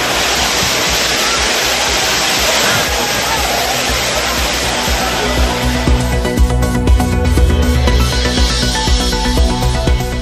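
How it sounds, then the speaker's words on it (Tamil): Courtallam waterfalls pour down in a loud, dense, unbroken roar of falling water while tourists bathe beneath, a steady wash with no break. "குற்றாலம் அருவிகளில் உற்சாகமாக குளித்து மகிழ்ந்த சுற்றுலா பயணிகள்."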